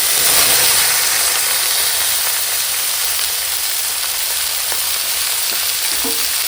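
Chopped bottle gourd hits hot oil with garlic and spices in a home kitchen pan, giving a loud, steady, broadband sizzle and frying hiss that runs continuously without pause.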